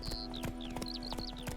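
Horse hooves clip-clop at a walking pace in The Witcher 3: Wild Hunt, a regular rhythm of sharp knocks over a low steady hum, with bright bird chirps mixed in around the steps.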